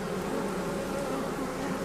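Honeybees buzzing over goldenrod-fed hive frames during an inspection, a steady, even hum that fills the short stretch without talk.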